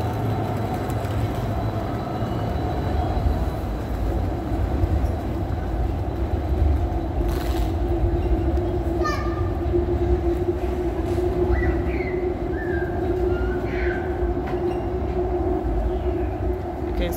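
Steady low rumble and hum of trains at Graz central station in Austria, with brief metallic squeals and faint voices in the background.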